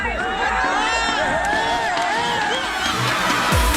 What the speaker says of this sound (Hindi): शायकीन की भारी भीड़ स्टेडियम में उमड़ आई